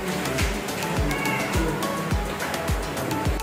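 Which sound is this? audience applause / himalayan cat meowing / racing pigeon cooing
himalayan cat meowing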